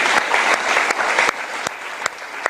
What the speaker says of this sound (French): Men, let us give a big applause to the Lord.